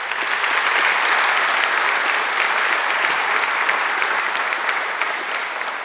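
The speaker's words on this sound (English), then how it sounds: "I think she deserves another great round of applause" A graduation ceremony audience gives a full, sustained round of applause, many hands clapping together in a steady wash before it starts to taper.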